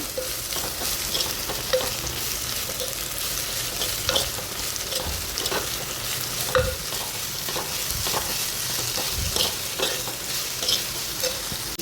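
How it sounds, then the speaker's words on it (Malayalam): Chopped shallots and slit green chillies stirred and sautéed in hot oil for a Kottayam-style sardine curry, a steady close sizzle with repeated spoon scrapes and clicks against the pan throughout. "അതിലേക്ക് ചെറിയ ഉള്ളി അരിഞ്ഞു വെച്ചതും പച്ചമുളക് കീറിയതും കൂടി ഇട്ട് കൊടുക്കാം"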